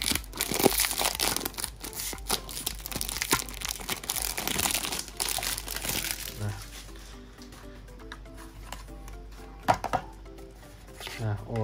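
Plastic packaging crinkles and tears as a 1:4 scale made-in-China Honda Odyssey diecast model is opened. The handling noise is loud and close for about six seconds, then gives way to quieter rustling and a few sharp clicks, with a voice talking throughout.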